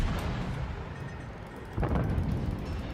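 A torpedo hit exploding in the video game World of Warships against a Benson-class destroyer, a low rumbling boom rising out of steady deep background roar, moderately loud and distant-sounding, with no talk.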